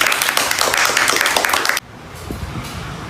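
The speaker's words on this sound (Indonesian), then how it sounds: "Kita beri tepuk tangan untuk Endah." A small group claps for a participant during a group counseling session, a short burst of hand clapping that stops abruptly, followed by quiet room tone.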